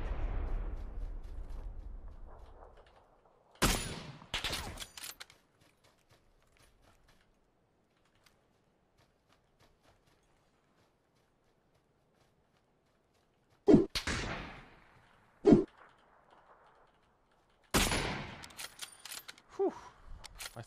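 Bursts of gunfire in the battle royale game PUBG, loud sharp volleys separated by long quiet gaps, with a cluster near the start and several more bursts toward the end.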